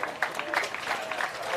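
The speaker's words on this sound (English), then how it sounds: "crowd applauding him" Crowd at a Country Rugby League junior representative match applauds an injured player being carried off the field, a steady broadband clapping that holds for the whole short stretch at moderate distance, with some crowd murmur mixed in.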